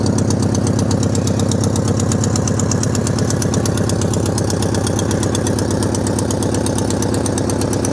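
A 1973 Volkswagen Beetle engine idles nearby with a steady, even putter and a fast regular pulse that holds for the whole stretch, loud and with no voices.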